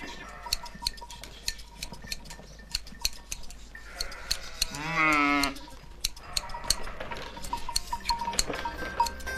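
A flock of breeding ewes kept for lambing bleats in a farm pen during shearing, one clear drawn-out bleat standing out amid scattered clicks and clatter.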